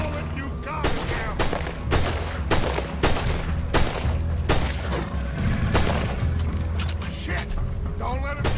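Rapid gunfire from a firefight in Red Dead Redemption 2, repeated loud shots and bursts in a steady rhythm throughout with game music and voices underneath.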